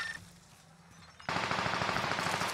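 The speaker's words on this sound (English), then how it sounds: "Shots on teammate." In a World War II shooter game, MP40 fire breaks out after a quiet stretch as a sudden run of rapid, loud automatic shots that continues to the end without pause.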